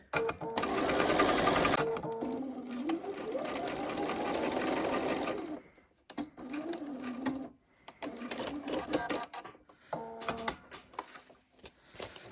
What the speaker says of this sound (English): So I'm just stitching around, lifting up my foot and spinning the star, just going down to the points and spinning.